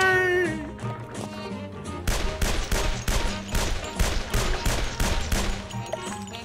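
A gun fires in the video game Gun, Gore and Cannoli, giving a long run of loud, evenly spaced shots close up that starts about a third of the way in and continues to the end.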